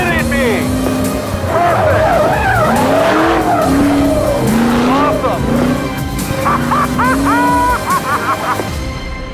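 The new Batmobile drifts with loud, sustained tire squeal and skidding, its engine roaring close by throughout, with squeals rising and falling in pitch and voices heard over the noise.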